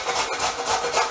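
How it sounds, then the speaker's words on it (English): A carrot scraped over a metal kitchen grater in quick back-and-forth strokes, a close, rhythmic rasping with several pulses in about a second. "I'm just going to take the grater, I'm going to grate the carrot."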